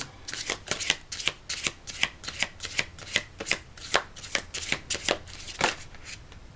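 Tarot cards being shuffled by hand, a quick run of crisp riffling bursts repeating at a steady rhythm close to the microphone, alone without speech.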